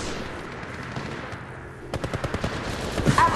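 A rapid burst of automatic gunfire in Apex Legends Mobile, heard against a low battle rumble. Quick evenly spaced shots fire in a run near the end, loud and close, with a sharper crack at the very finish.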